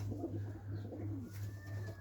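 Homing pigeons coo softly inside a worn pigeon loft, low repeated throaty calls overlapping in a steady murmur close by, with no one speaking.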